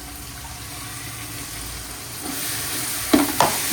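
Whole spices such as poppy seeds, fennel, cinnamon and cloves sizzle steadily in hot oil for a mutton biryani, a low continuous frying hiss with two sharper crackling bursts near the end and no voices.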